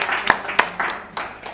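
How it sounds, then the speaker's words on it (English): Scattered, uneven clapping from a small game show audience at an antiques quiz, a few sharp separate claps and short bursts rather than a full ovation. "Give Colin a round of applause."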